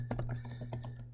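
Quick keystrokes on a computer keyboard while logging in, a rapid series of about a dozen close, crisp clicks over a faint steady hum, with no talk.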